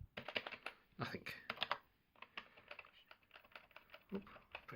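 Fingers tap on a Sinclair QL computer keyboard with a replaced membrane, a quick irregular run of soft, close keystrokes with brief pauses, faint and mostly free of talk.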